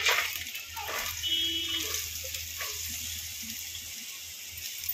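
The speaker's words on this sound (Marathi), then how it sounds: "तेल घातल्यानंतर आता आपण ह्याच्यामध्ये ह्या सगळ्या ज्या भाज्या आहेत त्या भाज्या घालून घेऊया" Vegetables dropped into hot oil in a pan while cooking a pasta breakfast, giving a bright hissing sizzle with a few soft thuds and scrapes, loud at first and easing slightly as it settles.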